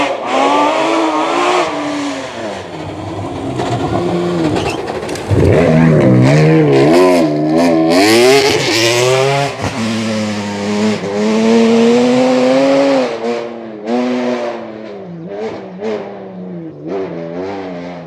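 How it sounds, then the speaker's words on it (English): A loud rally car roars past up close on a rally stage, engine revving hard with rising and falling pitch, a burst of throttle near the middle before it fades slightly. "That's a loud car. There's no way to cut that."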